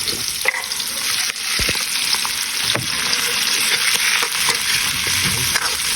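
Chicken eggs frying in a pan, a steady bright sizzle and crackle that holds loud and close throughout, with faint clinks of a utensil.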